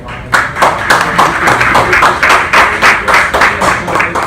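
An audience at a 2018 campaign fundraiser event in Newark's South Ward claps in a steady rhythm for council candidate Terrance Bankston, the beats loud and even, with faint voices underneath.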